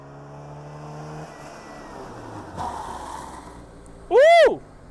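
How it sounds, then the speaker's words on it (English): A Foxbody Mustang on SR Performance coilovers brakes hard to a stop, a steady engine drone fading out before a short, loud tire screech as a wheel locks up near the end. "Locked up the tire."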